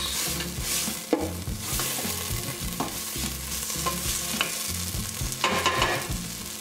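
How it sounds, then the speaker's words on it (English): Ingredients seasoned with Old Bay sauté in a pan, a steady close sizzle broken by repeated scraping stirs and a few sharper utensil knocks against the pan. "We're just going to saute that really quickly for a couple minutes."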